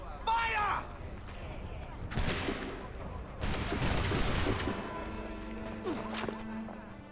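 Musket volley in Assassin's Creed 3, a burst of gunfire cracks that opens with one sharp report and then a loud crackling volley, with voices talking and shouting around it.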